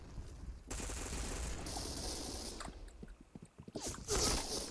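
Rapid automatic fire from an AUG rifle in a chaotic team shooter match, with bursts of dense shots trailing into scattered single cracks and a louder volley near the end.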